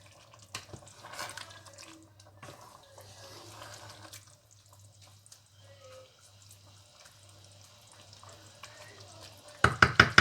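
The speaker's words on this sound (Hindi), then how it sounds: "अब मैं इनको अच्छी तरह मिक्स कर दूंगी।" Ingredients mixed with a few fresh mint leaves for an iftar dish, soft intermittent stirring and wet clinks against a pot over a low hum, faint overall, closing with a few sharp louder knocks.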